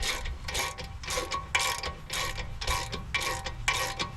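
A ratchet with a 13/16 socket snugging caliper bracket bolts into aluminum on a 7th-generation Honda Accord, a close, rapid clicking pawl in repeated bursts with brief pauses between strokes.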